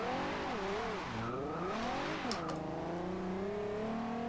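A Nissan GT-R drifting in Forza Horizon 2, its engine revving up and down with wavering pitch as the car slides sideways, steady and fairly quiet.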